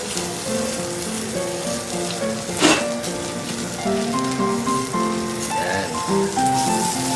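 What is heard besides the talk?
stingray sizzling while grilling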